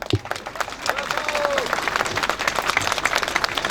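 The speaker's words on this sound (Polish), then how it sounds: "wielkie brawa dla niej" A crowd at an anti-immigration street rally in Warsaw claps in a dense, steady burst that holds loud for several seconds, with scattered voices mixed in.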